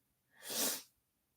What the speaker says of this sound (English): I'm sorry about my nose, everybody, and the sneezing.